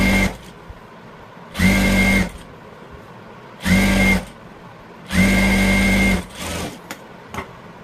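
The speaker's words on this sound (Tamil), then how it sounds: "ஃபர்ஸ்ட் ஒரு 1/2 இன்ச் மடக்கி நான் தையல் போட்டுக்கிறேன்" A sewing machine stitches a blouse hem in three loud bursts, each about half a second to a second long, with a steady whirring buzz and quiet handling sounds in the pauses between runs.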